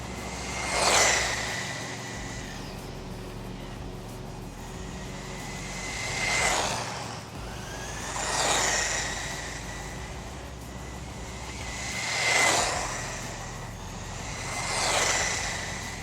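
An Eachine EAT14 brushless RC buggy on a 2800 mAh 2S LiPo makes repeated high-speed passes, its electric motor whine rising and falling in five distinct whooshing fly-bys against a quiet outdoor background.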